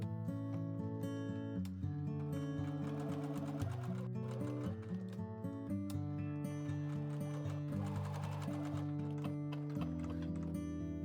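Steady, continuous whirring of a sewing machine stitching around the sides and bottom of a tote bag pocket with a 2.5 mm stitch length, close and even throughout, with a tonal layer of background music underneath.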